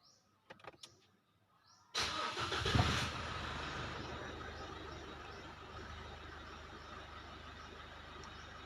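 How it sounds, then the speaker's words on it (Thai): A car engine cranks briefly and catches, then settles into a steady idle rumble after a few quiet clicks. "ผมจะทำการสตาร์ทเครื่องยนต์นะครับ"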